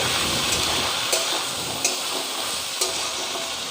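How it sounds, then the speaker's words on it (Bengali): Cubed potatoes, pointed gourd and raw rice fry together in a pan with a splash of water, giving a constant dense sizzle close by, with a few soft clicks of stirring breaking through. "আর একটু ভাজা ভাজা হোক পটল আলুর সঙ্গে চালগুলো"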